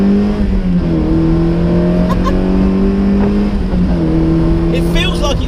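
Mazda MX-5 MK2 RS with modifications, its engine revving steadily under acceleration with rising and shifting harmonic drone, loud and close throughout, with a voice talking over it.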